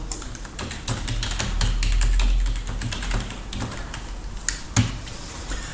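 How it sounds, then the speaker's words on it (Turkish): Someone types an email address on a computer keyboard, a close, brisk patter of key taps with irregular rhythm and a couple of louder strokes near the end, no speech. "e-mail adresinde hangi e-mail adresini kullanmak istiyorsam o adresi yazıyorum."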